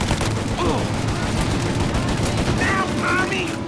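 A shootout in the video game Mafia: Definitive Edition, with dense, continuous rapid gunfire loud throughout and a voice briefly calling out over the shots.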